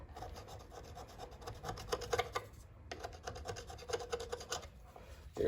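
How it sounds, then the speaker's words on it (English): An old wood chisel scrapes an old gasket off an aluminum carburetor from an Earthquake rototiller, a close rasping scrape in repeated strokes with a brief pause midway. "Have to get the old gasket off of there."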